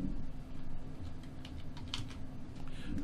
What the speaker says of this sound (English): Maybe I have to type DNG converter.